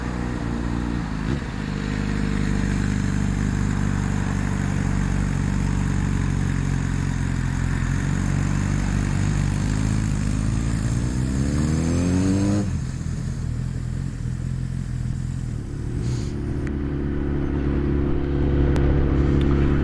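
Yamaha FZ1N motorcycle ridden on the A760 road toward Kilbirnie, its engine droning steadily up close with wind rush, rising in pitch as it accelerates through the gears, then settling after a shift.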